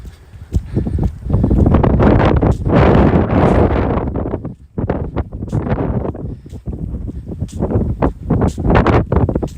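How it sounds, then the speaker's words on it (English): Cold north wind buffeting the microphone during a walk on a trail, with heavy rumbling gusts that rise and fall throughout, loud and close, mixed with light crunching footsteps. "So the wind's coming from the north, so that's probably why we're getting all this cold"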